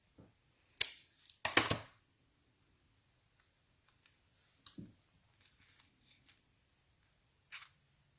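Craft material being cut with scissors during a live crafting session, giving a few sharp close snips early on followed by faint scattered clicks and handling noises.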